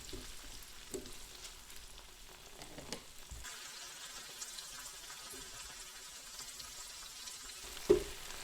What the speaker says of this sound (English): Kind of stir them around the pan,